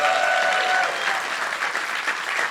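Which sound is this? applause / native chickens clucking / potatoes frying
applause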